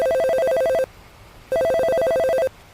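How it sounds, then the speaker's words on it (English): A telephone rings in a radio drama set in a city, with two long bursts of bright electronic ringing separated by a short pause, loud and alone. "The phone rang, a sound he had come to expect, a signal that trouble had arrived once again"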